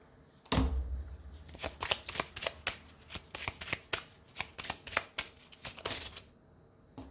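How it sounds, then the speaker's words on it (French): Oracle cards are shuffled by hand in a long run of crisp, papery riffles and snaps, heard close and alone, each burst following quickly on the last. "On va terminer avec des petites cartes"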